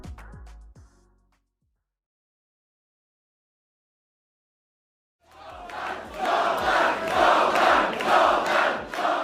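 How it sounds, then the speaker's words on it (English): Crowd at a political rally chanting Jordan Bardella's name, a loud rhythmic group chant that starts abruptly after a few seconds of silence and keeps a steady pulsing beat. "Crowds gather around Jordan Bardella and chant his name as he prepares to speak at a political rally"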